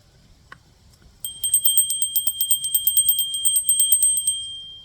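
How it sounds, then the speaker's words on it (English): A bell rings repeatedly in a steady, rapid series of bright, sustained tones that shimmer and resonate for about three seconds, loud and close, after a single faint tap at the start. "the way that bell resonates, that's what I'm looking for"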